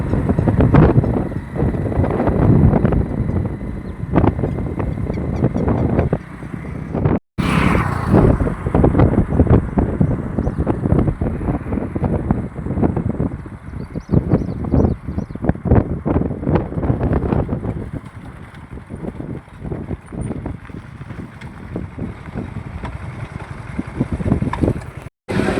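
Heavy wind buffets the microphone while riding a Honda motorcycle on the road to a temple, a loud continuous rumble and roar with gusty swells throughout and a short dropout partway through.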